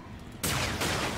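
A sniper rifle fires in the video game Quake 4 during a boss fight: two loud, sharp shots about 0.4 seconds apart, each with a lingering, ringing tail.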